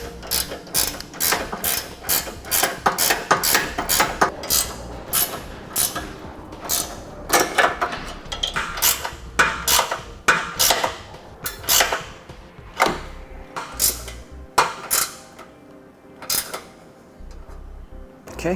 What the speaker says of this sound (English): Now we'll get all our bolts hand tightened.